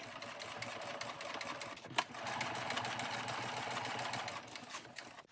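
A sewing machine runs a zigzag stitch along a skirt edge, a steady continuous mechanical whir heard close and alone, with one brief sharp click partway through.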